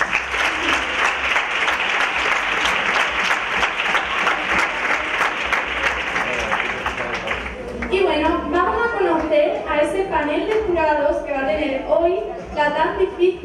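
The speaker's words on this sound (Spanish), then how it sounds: "Un fuerte aplauso para ellos." A theater audience gives dense, sustained applause at the Miss Grand Huelva 2022 pageant final. The clapping stays loud for several seconds, then fades as a presenter starts speaking over a quieter background.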